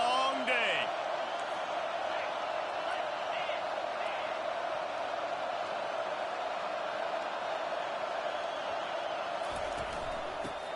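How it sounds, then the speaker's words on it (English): A stadium crowd at the Penn State vs Auburn football game roars loudly and continuously, a dense sustained wall of cheering with a broadcast voice talking over it. "This crowd, full throat, splitting the eardrums"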